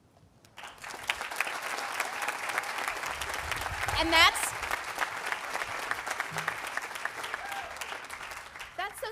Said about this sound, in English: We're going to start with a round of applause.